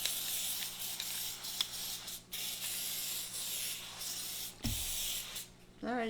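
Continuous hissing spray from a bottle, a steady misting sound lasting several seconds with a few brief breaks, close by.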